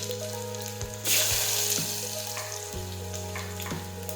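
Chopped potatoes drop into hot oil already crackling with mustard seeds, cumin and asafoetida for a Gujarati guvar-potato dish, setting off a sudden loud sizzle that settles into steady frying with occasional stirring clinks close by.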